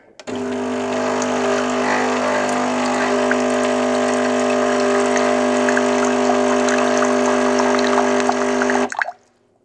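A Paulig Cupsolo capsule drink machine runs its rinse cycle: a steady, close pump hum with a watery hiss holds evenly for about nine seconds, then cuts off abruptly, with no voices.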